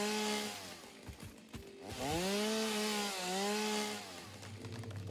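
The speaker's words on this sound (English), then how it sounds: "you can chop them down with the chainsaw" Chainsaw cutting down trees in the video game Satisfactory, the motor's whine revving and bogging in long sweeping pitch bends, close and loud with no speech.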